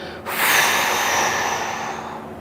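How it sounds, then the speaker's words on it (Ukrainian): A forced exhalation during a pelvic floor breathing exercise, one long, strong breath pushed out hard like blowing out a candle, close and loud, slowly fading over about two seconds with no talk. "Зараз на видих ми розпочинаємо форсувати наш видих."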